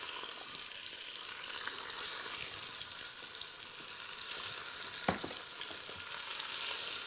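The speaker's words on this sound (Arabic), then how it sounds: "بسم الله نحمرها لي دو كوتي" Quail frying in oil in a pan for a tagine, a continuous close sizzle and crackle with a steady level and one brief sharp tap midway.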